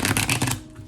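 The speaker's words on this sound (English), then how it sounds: "let me just go ahead and get ready to shuffle these cards" Tarot cards are shuffled close up in one short riffling burst that fades quickly.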